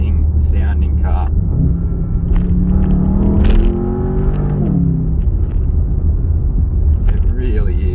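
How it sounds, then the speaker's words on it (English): A 2023 Bentley Continental GTC S engine rumbles loudly, swelling into a rising rev and then falling back, with a steady low drone throughout and a voice talking over it. "But nothing really ignites your senses as much as this engine."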